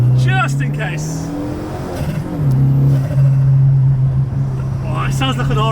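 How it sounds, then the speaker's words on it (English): A Renault Megane 265 RS engine revs hard, with a loud, close, droning induction roar that rises and holds, while voices talk briefly at the start and end. "it sounds like an RS Cosworth. It actually does, there's so much induction noise"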